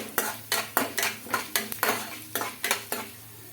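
Coriander and cumin seeds frying in a pan while a spoon stirs them: sharp scraping clinks of metal on the pan at a steady, quick rhythm over a light sizzle, close and clear, with no talking.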